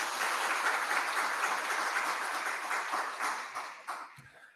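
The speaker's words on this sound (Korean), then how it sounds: "네, 박수로 환영하겠습니다." A church congregation applauds in welcome during a Sunday worship service, a steady wash of many hands clapping that holds evenly and then thins and fades out near the end.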